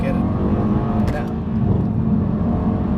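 A Mercedes C63S AMG coupe engine drones at a low, steady rumble under acceleration from inside the cabin, loud and continuous, with a brief higher mechanical flutter partway through.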